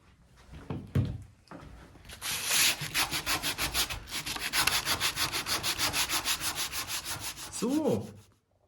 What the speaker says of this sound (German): ich habe jetzt nochmal drüber gespachtelt